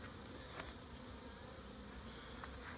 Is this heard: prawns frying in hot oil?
no